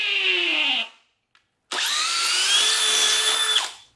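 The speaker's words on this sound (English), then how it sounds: "Look at how fast and easy this makes drilling through concrete." A hammer drill driver with a Bosch masonry bit boring into concrete, two loud, close bursts of high grinding whine separated by a short pause, the second longer and steady before winding down.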